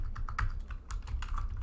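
Fingers type rapidly on a computer keyboard, a close run of crisp clicks and clatters in quick irregular bursts with a short pause midway.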